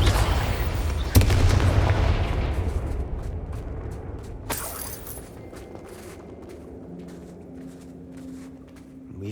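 Confringo blasting spells in Hogwarts Legacy set off two sharp booms, the first heavy and close, the second a crackling burst, each fading into a low rumble and quieter ambient game sound.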